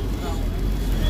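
Dense, steady city traffic rumble and engine noise heard from inside a local bus in Old Delhi, loud and continuous with no clear individual events.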